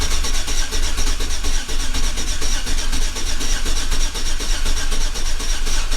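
A 2007 Chevrolet Silverado truck engine runs steadily nearby after an oil change and lifter replacement, a dense continuous rumble with clattering texture and no voices.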